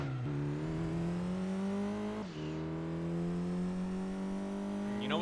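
A race car's engine drones in Gran Turismo 2, a steady whine that drops sharply with a gear shift partway through and then climbs again. It plays loud and alone, with no talk.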